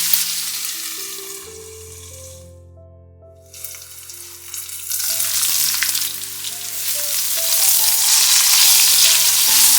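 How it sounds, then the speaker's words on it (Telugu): Okra pieces crisp-frying in oil in a covered pan, a steady broadband sizzle that dips briefly, then swells louder and denser through the rest, with faint tonal kitchen hum underneath and no voices. "బెండకాయ ముక్కలు ఈ విధంగా క్రిస్పీగా వేగిన తర్వాత"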